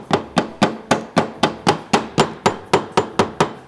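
Rapid, steady hammering along the edge of a dented rear car body panel during collision repair, about fourteen evenly spaced, close, solid knocks with no talking.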